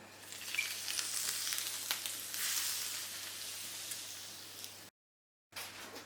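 Leftover pork fat from browning ribs hisses and sizzles steadily as it is poured into a hot pan while cooking pork ribs with sauerkraut, a close, continuous frying crackle that cuts off briefly near the end.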